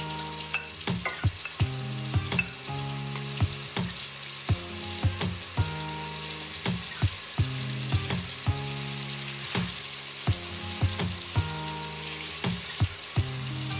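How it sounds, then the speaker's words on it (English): Beef for an Irish beef stew sizzles steadily as it browns in a skillet, with a continuous loud frying hiss broken by regular clinks and scrapes of a utensil stirring and turning the meat. "We will cook it in the skillet until it's brown"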